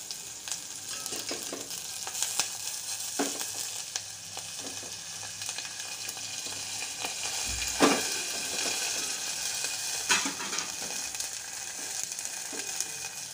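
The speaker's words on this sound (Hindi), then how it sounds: "एक पैन में मैंने डाल दिया थोड़ा सा ऑयल, हरी मिर्च कुटा हुआ, लहसुन, जीरा, राई, ये सब डाल के हम अच्छे से भून लेंगे" Garlic, crushed green chilli, cumin and mustard seeds fry in hot oil for a dal tadka, giving a steady close sizzle throughout with occasional stirring scrapes and small pops.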